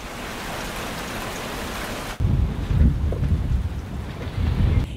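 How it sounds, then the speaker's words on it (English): Steady rain at a boat anchorage, a dense hiss of drops that shifts abruptly midway to heavier, rumbling drumming with low gusty swells, continuous and close with no talking. "It started with the rain, but over the next few days, our anchor was tested as we were buffeted by winds."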